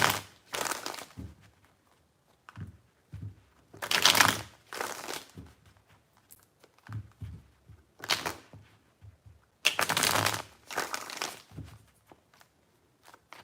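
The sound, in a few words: shuffling tarot cards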